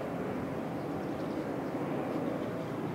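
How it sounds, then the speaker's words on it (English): An airplane passes overhead at an outdoor school prize-giving, a constant broad roar that holds at an even, fairly loud level without talk. "as another plane goes overhead"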